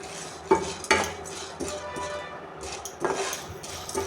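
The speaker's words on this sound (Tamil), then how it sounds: "அதுக்கு தான் வந்து கடலைப்பருப்பை வறுத்து எடுக்கிறேன்" Chana dal dry-roasts in a pan while a utensil stirs it, giving several sharp scrapes and clinks over a faint, quiet background, close by, with no talking.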